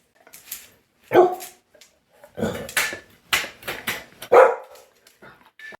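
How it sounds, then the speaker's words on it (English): A dog barks in short bursts near a projector teardown on a workbench, several sharp barks with gaps between them, loud and close, with no talk over them. "Hello, dog."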